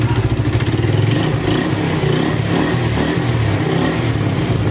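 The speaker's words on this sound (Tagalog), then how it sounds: "pinabandaran natin, pinapainitan natin yung makina" A Suzuki Raider 150 motorcycle engine idles loudly and steadily up close while warming up, its low rumbling throb continuous with a faint mechanical clatter.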